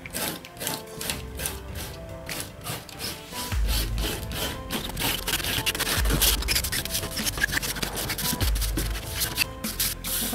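Dried masking fluid is rubbed off watercolor paper with a rubber cement pickup, giving close, repeated scrubbing strokes in short bursts, with a few deeper rumbling passes.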